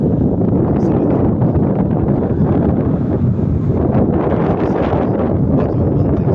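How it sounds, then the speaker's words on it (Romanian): Strong wind gusts roar steadily across an open valley in Romania's Jiu Valley, a dense, continuous buffeting rush that stays loud for the whole stretch with no pauses. "Bate un vânt extra."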